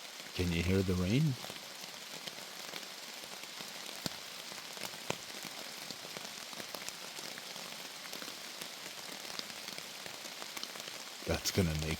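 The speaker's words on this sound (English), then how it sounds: "Can you hear the rain?" Steady rain falls on a campsite at night, a soft, even patter on surfaces that carries on throughout, with a short voiced sound at the start and near the end.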